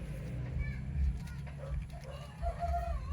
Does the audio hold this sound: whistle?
no